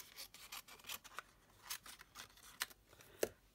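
Scissors snip through card stock for a layered umbrella card, a series of short, quiet crisp cuts and rasping slides, close up with no talking.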